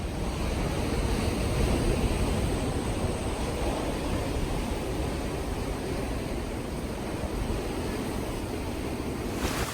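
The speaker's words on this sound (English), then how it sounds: "I want you all to feel the breeze, hear the sound of the ocean" Steady ocean surf and breeze at Burleigh Head, Gold Coast, Australia, a continuous broad wash of waves with wind buffeting the microphone, unbroken and without any voices.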